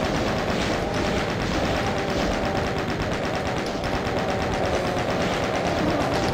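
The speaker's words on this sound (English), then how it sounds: "Use the chain gun to take care of these." A chaingun in the Doom mod Back to Saturn X fires a continuous, dense, loud stream of rapid shots at barrels, unbroken from start to finish.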